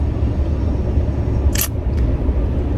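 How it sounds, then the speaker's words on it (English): A car engine idles steadily while someone sits inside, a constant low rumble interrupted by a short sharp click and a fainter second click. "Right now I'm just sitting in the car with it running"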